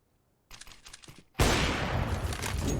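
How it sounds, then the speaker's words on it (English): A scout sniper rifle fires in Counter-Strike on the Dust 2 map: one sharp, loud report that breaks over quieter game clatter. The boom rings out and stays high over the rest of the clip. "Good shot with the scout from Spitty."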